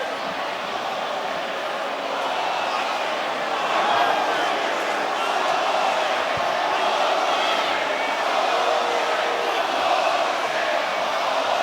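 A boxing arena crowd is in uproar at a Nikita Tszyu vs Michael Zerafa fight that ended in a controversial no contest, with a dense, sustained roar of shouting and jeering filling the space while a commentator talks over it.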